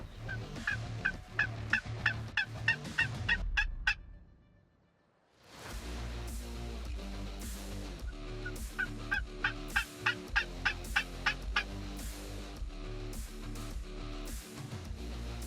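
Wild turkeys gobble near a hunting blind in the Carolinas, repeated rapid gobbling bursts from several birds, a short quiet gap, then more gobbles overlapping close by.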